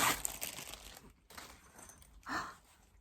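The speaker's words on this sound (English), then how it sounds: "More crinkling." Plastic packaging around a fabric notions pouch crinkles faintly at close range, in short bursts of soft rustling and crackling with brief pauses between handlings.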